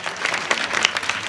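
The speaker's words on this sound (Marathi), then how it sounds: "पुन्हा एकदा टाळ्या वाजा बरं." A short, lively burst of audience clapping at a public talk, close and fairly loud, with many hands striking in quick overlapping rhythm for about a second.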